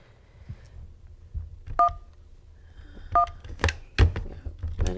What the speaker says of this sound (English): Let me get Carl back on the phone.